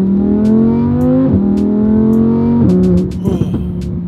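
An Audi R8 accelerating hard, engine note climbing loud and close through gear changes, with rising revs, brief dips at each shift, and a final throttle lift with crackles.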